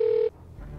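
A single brief ringback tone on a call to a cellphone, a steady electronic beep that cuts off abruptly, followed by faint line noise.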